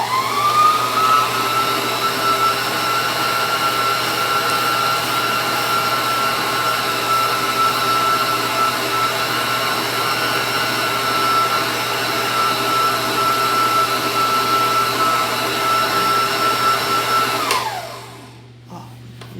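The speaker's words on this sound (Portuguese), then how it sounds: "Agora nós iremos bater mais um pouquinho." An electric stand mixer beats cake batter for a filled party cake, a loud, steady motor whine holding for about seventeen seconds before spinning down and stopping.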